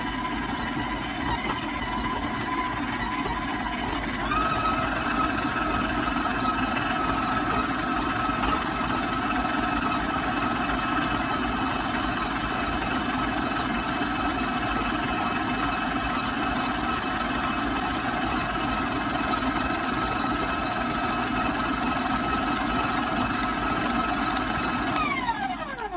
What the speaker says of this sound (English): we're going to start creaming the butter and the sugar together